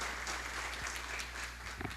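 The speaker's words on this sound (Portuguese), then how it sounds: "Uma salva de palmas para o Guilherme." Audience applause for a speaker at a talk, a brief burst of steady clapping heard faintly over a low constant hum.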